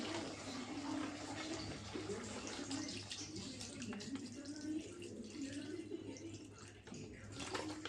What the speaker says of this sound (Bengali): এখন আমি একটু জল দিয়ে দিই।